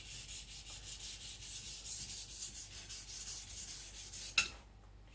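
A knife is worked back and forth on a whetstone during thinning and full sharpening, making a quiet, rhythmic series of gritty rubbing strokes, then a sharp scrape and a brief pause near the end.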